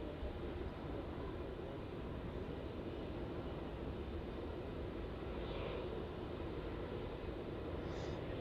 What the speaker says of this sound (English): Qantas 737, slowing down there on 3-4, operating as QF441 from Sydney